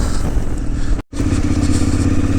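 A KTM 990 Adventure S motorcycle engine roars steadily and loudly while accelerating, cutting out abruptly for a split second before picking back up at the same strong, continuous level.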